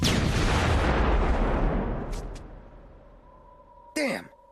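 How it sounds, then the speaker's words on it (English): A cartoon explosion as the Earth is destroyed: a loud, broad rumbling blast that fades out over a few seconds, with a brief high-pitched cartoon sound near the end. "Duckman, the Earth is no more."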